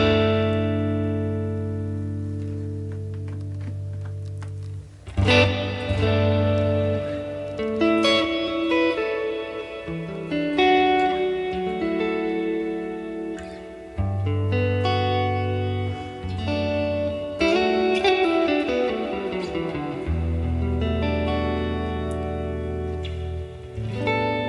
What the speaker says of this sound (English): the Hall presumably is going to sound like a big Hall.